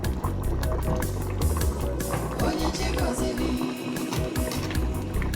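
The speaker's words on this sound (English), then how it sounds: "It has been boiling for like 10 minutes." A pot of catfish pepper soup bubbles and simmers steadily at close range, with a continuous watery churning and a low rumble underneath.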